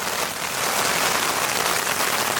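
Heavy cyclonic rain drums steadily and loudly on a Hilleberg Niak tent, a dense continuous hiss of drops on the fabric with no break, heard from inside close up.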